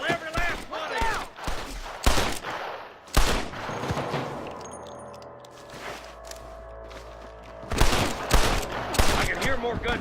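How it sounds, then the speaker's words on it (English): In the video game Red Dead Redemption, loud volleys of gunfire crack out in clustered bursts, mixed with voices and game ambience. "I can hear more gunshots."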